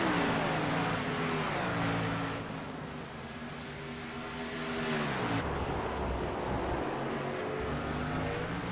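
Race car engines on a dirt track, loud and continuous, with pitch rising and falling as the cars brake, corner and accelerate, close and sustained with no talk over them.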